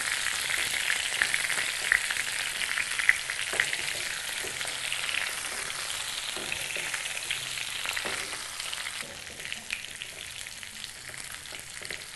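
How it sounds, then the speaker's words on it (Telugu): Eggplants frying in oil give a steady close sizzle, with soft occasional stirring scrapes mixed in, fading slightly toward the end. "ఈ వంకాయలు ఆయిల్లో బాగా ఫ్రై అయ్యేలాగా కలుపుకోవాలి."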